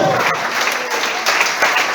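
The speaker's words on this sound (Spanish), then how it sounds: "Dale un aplauso a Cristo." Church congregation applauding in a dense, continuous wash of clapping that stays loud and even from start to finish.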